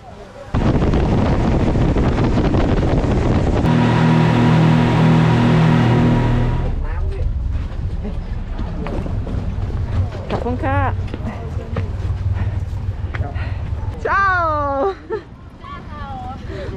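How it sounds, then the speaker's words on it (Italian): Speedboat ride on the river at Ranong in Thailand, along the border with Myanmar: a loud, wind-buffeted engine roar with a steady droning tone, then people talking over the rushing noise. "Prenderemo una speedboat."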